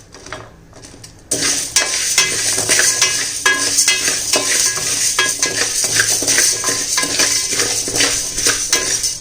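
Dry ginger dropped into hot, freshly roasted black urad dal in a pan, loud continuous scraping and rattling of a spoon stirring the dry mix after a quiet start.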